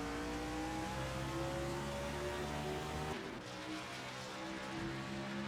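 Race cars at Road America roar past in a steady, loud engine drone with tonal whine, the pitch dropping sharply midway as a car passes or lifts, then continuing at a lower, slightly rougher hum.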